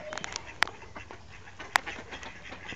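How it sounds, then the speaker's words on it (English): A duck gives two sharp, loud squawks amid outdoor background noise, with fainter calls from other birds in between. "Listen how squawky that guy is over there."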